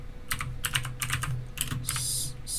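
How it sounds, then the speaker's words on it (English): Quick bursts of keystrokes on a computer keyboard, several short clusters of clicks close up, ending in a longer steady run of keys, with no voices. "You'll want to type in the command ipconfig"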